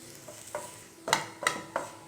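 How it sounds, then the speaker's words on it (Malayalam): A utensil stirs and scrapes through grated coconut frying in a pan, with a soft sizzle underneath and several distinct scraping strokes. "നന്നായിട്ട് ഇളക്കി കൊടുത്തുകൊണ്ടിരിക്കുക. അപ്പോൾ ഒരേപോലെ തേങ്ങയൊക്കെ ഫ്രൈ ആയി കിട്ടിക്കോളും."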